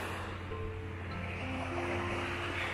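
Surf at Trunk River Beach in Woods Hole, Cape Cod, washes in as a continuous broad roar with low rumble, steady and close, with no talking.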